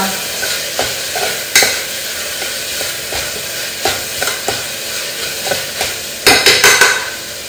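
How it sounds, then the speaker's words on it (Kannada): Food frying in a hot pan while being stirred, a continuous sizzle punctuated by regular scraping and knocking strokes of the spoon, loud and close, with a quick burst of strokes near the end. "ಚೆನ್ನಾಗಿ ಫ್ರೈ ಮಾಡಬೇಕು."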